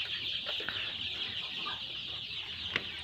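Chickens being raised on a small farm, heard as a constant, fairly faint background of poultry calls with a few short, sharper clucks standing out; no one talks.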